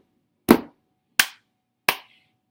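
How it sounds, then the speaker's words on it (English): Sharp percussive slaps and claps from a group keeping a steady beat, with three crisp, evenly spaced hits and the start of a fourth, separated by silence. "they're going to just have to all keep a specific beat together, which is slapping their legs twice and clapping their hands twice"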